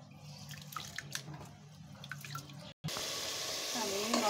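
Home-grown rice is washed in water: faint clinks and swishes at first, then a sudden, steady rush of running water pouring close by.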